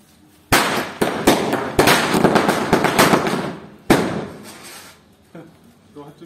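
Diwali firecrackers bursting outdoors, a run of loud sharp bangs and crackling pops in quick succession with voices talking in the background as the noise dies away.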